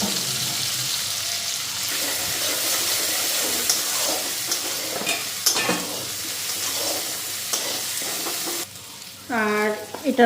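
A ground spice paste fries and sizzles in a hot pan, the steady crackling hiss broken by repeated scraping strokes of a stirring spoon, then cutting off near the end as a voice briefly speaks.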